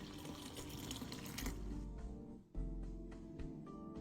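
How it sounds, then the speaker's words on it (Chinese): Hot water runs and splashes into a bowl of soaked dried chillies to soften them, a steady, close gurgling pour with a brief break before the flow resumes. "接着再用热水泡软。"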